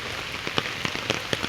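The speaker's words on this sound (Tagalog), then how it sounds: "walang humpay ang ulan" Heavy, unbroken rain pattering on a surface on an overcast midday, a dense steady hiss with scattered louder drops striking close by.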